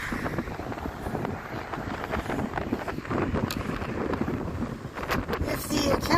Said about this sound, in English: the wind is beginning to gust